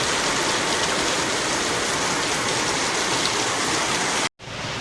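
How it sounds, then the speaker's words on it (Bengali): A heavy downpour hisses and roars steadily and close by, then breaks off briefly before resuming, with no voices. "দারুণ বৃষ্টি হচ্ছে।"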